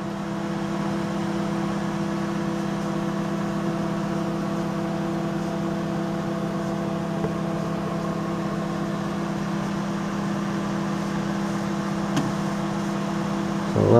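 A microwave oven runs during a leakage test after a magnetron repair, giving a steady, unbroken electrical hum at moderate level with no speech.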